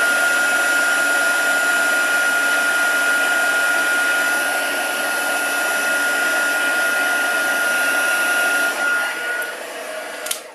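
A handheld heat tool runs steadily for about ten seconds while heat embossing powder melts on a stamped card, giving a loud, even blowing whir with a faint tone above it that tapers off at the end.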